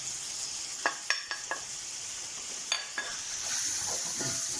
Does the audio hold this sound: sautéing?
yes